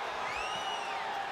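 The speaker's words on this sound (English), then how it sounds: "And do you hear this capacity crowd?" A capacity arena crowd roars steadily at a no-holds-barred wrestling match in WWE 2K25, a dense continuous wall of cheering with whistling whoops over the top, loud throughout.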